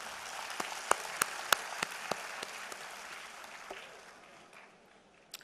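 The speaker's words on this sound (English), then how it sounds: "clap for yourself and do it in a larger way" An audience at a live ethnopharmacology lecture gives soft, distant applause, scattered sharper claps standing out early before the sound thins and fades, with one last clap near the end.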